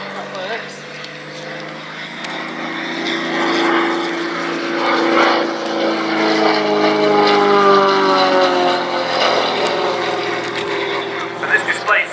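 Full-size propeller aircraft flying a synchronised aerobatic pair display at an Edwardian pageant airshow, a steady droning engine hum with shifting pitch, heard at a distance under commentary.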